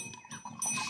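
Village goats give a brief, nasal bleat in a rural setting, a short close call that lasts under a second.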